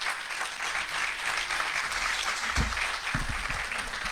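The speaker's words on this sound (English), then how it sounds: "a big round of applause" Steady applause from a crowd at a guide dog class graduation fills the space, sustained and fairly loud, with a few low thumps near the end.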